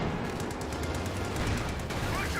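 Vickers machine gun fire in the Company of Heroes 2 video game rattles in rapid, steady bursts over a dense battle din, with faint commentary underneath.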